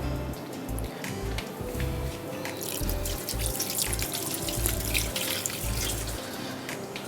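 Tap water runs steadily into a kitchen sink while hands are rinsed of batter and red chillies, a continuous splashing flow with small irregular splashes, near and moderately quiet.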